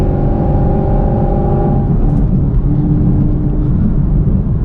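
A manual car pulls hard under acceleration from inside the cabin, its engine droning loudly and steadily with a rising tone partway through.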